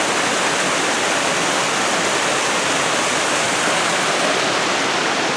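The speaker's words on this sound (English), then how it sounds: "We got a nice waterfall here." Waterfall on Mason Creek, the outflow of Mason Lake, pours in a steady, dense rush of white water, loud and close throughout with no voices.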